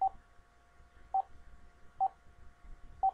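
Telephone keypad tones dialing a number: four short, evenly spaced beeps, clear and alone over a faint background hum.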